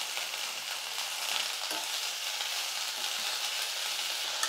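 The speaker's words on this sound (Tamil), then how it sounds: "இது எல்லாம் சேர்த்து நல்லா வதக்கிக்கணும்" Fenugreek, spinach, mint and coriander leaves saute in hot oil with a steady, dense sizzle that holds even throughout. Faint stirring scrapes sit close under it, with no voices.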